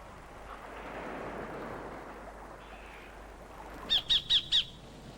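Sacred kingfisher calling on a coastal shore where it hunts crabs, four sharp evenly spaced squawking notes close and loud near the end, after a stretch of soft wind and surf noise.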